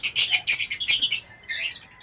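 Several birds chirp and squawk in quick, repeated bursts of high, bright calls, close and fairly loud, with short gaps between the outbursts.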